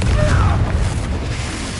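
A Confringo fire spell bursts in Hogwarts Legacy combat, a loud, sustained low boom filling the moment without any voice over it.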